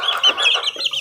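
Young grey asil chickens give busy, high-pitched chirping and clucking calls, several birds overlapping in quick, close chatter over about a second.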